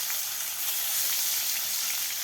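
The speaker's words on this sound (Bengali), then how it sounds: "এবার মাছ ভেজে নেবে।" Fish pieces coated in turmeric, salt and chili sizzle in hot oil, a steady, dense frying hiss with light crackles throughout, close and fairly loud with no talking.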